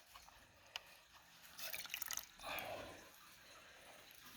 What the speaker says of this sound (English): I'm dipping it in just the regular water